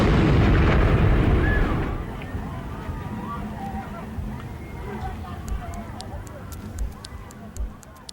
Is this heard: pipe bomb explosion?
yes